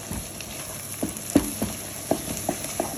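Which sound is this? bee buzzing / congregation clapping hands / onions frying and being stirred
onions frying and being stirred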